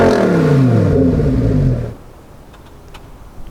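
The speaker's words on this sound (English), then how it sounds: "since this Huracan rear-wheel drive is fitted with our complete race sport exhaust system, we're going to see just how loud it is" Novitec-exhausted Lamborghini Huracan EVO RWD with a full race sport exhaust, a loud, close blip that climbs and falls sharply, then drops off to a quiet idle with faint clicks.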